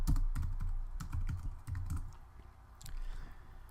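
Rapid, irregular clicking of a computer keyboard as someone types a search into a shopping site, close and clear, with a pause and then a few more keystrokes near the end.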